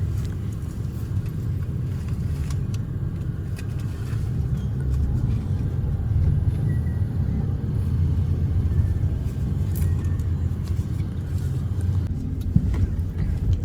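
A car pulls out of the Grass Residences condominium gate onto a city road toward EDSA, heard from inside as a steady low engine and road rumble, close and continuous with light rattles and no talking.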